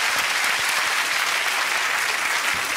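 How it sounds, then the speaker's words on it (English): A TV game show studio audience gives a loud, continuous burst of clapping that stays full and even for the whole brief stretch. "Give him a big round of applause."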